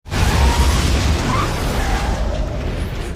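A tanker truck explodes after a car crash in a film, with a loud, sudden blast and a deep low rumble that fades slowly into a long roaring wash of noise.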